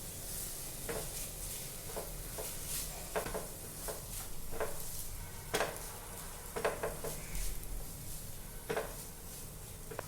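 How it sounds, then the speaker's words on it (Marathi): A spoon stirs a soy-and-Schezwan sauce mixture sizzling in a pan, with light scraping and occasional sharper clinks of utensil against metal over a steady frying hiss. "सॉस घालायचा आहे छान मिक्स करून घ्यायचं आहे"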